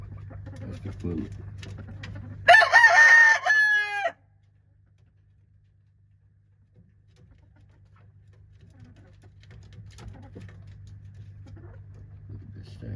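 Bates Spangled chickens, a hen and pullet among them, give a loud burst of crowing and clucking lasting about two seconds, followed by quieter fowl sounds over a steady low hum.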